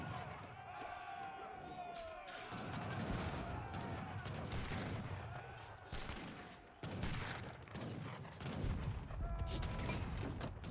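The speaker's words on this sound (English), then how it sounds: "these two heavy cannons are literally MVP this game" Heavy cannons firing in a strategy video game team battle: repeated booming shots and crackling volleys amid busy battle noise, with a person talking over much of it.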